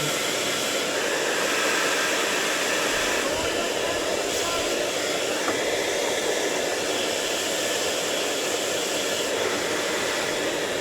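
A loud, steady rushing whoosh of a blower drying a drone soaked in seawater runs without pause, close by, with faint voices underneath.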